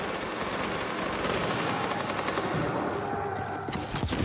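Gunfire in a video game: rapid machine-gun bursts and scattered shots rattle continuously for several seconds, loud and close, with a louder crack near the end.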